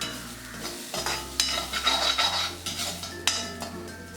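Grated coconut and spices are stirred and heated in a pan for Chettinad egg curry, making a steady close scraping and stirring sound with soft sizzling and a faint low hum underneath.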